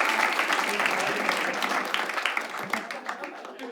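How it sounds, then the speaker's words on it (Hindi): Audience at a stand-up comedy show breaks into loud, dense applause, a close wash of clapping that holds steady then thins toward the end, with a voice speaking over it. "एक बार ताली बजा दो"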